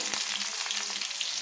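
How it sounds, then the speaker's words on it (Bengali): Potatoes frying in oil in a pan for a silver carp and drumstick curry, a steady close sizzle and crackle with faint stirring scrapes. "আলুগুলো তেলের মধ্যে একটু ভেজে নিচ্ছি"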